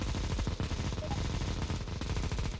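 Rapid gunfire in a Counter-Strike match, dense repeated shots in quick bursts, fairly quiet and steady throughout with no talk.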